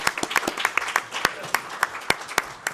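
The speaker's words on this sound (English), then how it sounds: "Let's give her a round of applause." A crowd claps enthusiastically, sharp overlapping hand claps with a few louder individual claps standing out, sustained for a couple of seconds.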